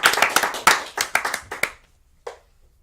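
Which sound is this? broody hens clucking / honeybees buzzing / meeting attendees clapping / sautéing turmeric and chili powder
meeting attendees clapping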